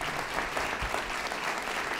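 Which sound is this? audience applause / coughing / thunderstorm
audience applause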